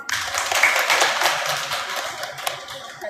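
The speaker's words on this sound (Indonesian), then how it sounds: "Boleh tepuk tangannya?" Audience applause at an indoor parenting seminar, a dense, steady patter of many hands clapping that holds for about three seconds without a break.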